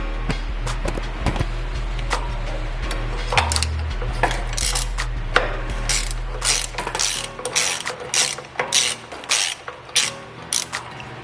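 A wrench ratchets while removing an engine sensor on a Ford Coyote engine swap, with rapid clicking pawl bursts and metallic clinks growing louder and choppier toward the end, close up over a low hum.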